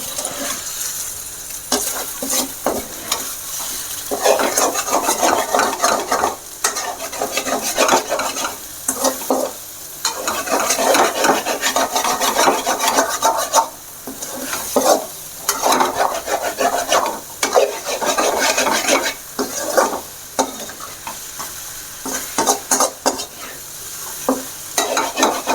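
Pieces of chicken frying in a pan are stirred and broken up with a utensil, giving repeated rhythmic scrapes over a continuous close sizzle.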